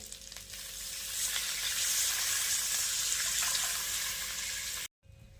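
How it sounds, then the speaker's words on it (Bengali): Pabda fish curry broth in a pan, with chilli and turmeric in oil plus water, bubbling and hissing steadily at a moderate level before cutting off abruptly near the end. "ঝোলটা ফুটে গেছে"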